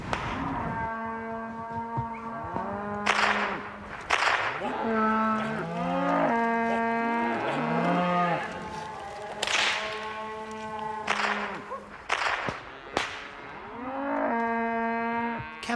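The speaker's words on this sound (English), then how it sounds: "Cattle seem to know when mustering time has come, and they're not too fussed about being rounded up." Cattle moo repeatedly during a muster in rural Victoria, Australia: loud, overlapping low calls from several animals, punctuated by sharp whip-like cracks, with no talking.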